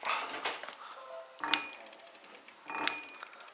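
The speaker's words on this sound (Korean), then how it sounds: "모다에서 구르륵 소리 나죠" An electric bicycle's hub motor, with the wheel lifted off the ground and spun by hand, gives a gritty, ratcheting grind with rapid clicking pulses that come in bursts. It sounds close, with no talk over it.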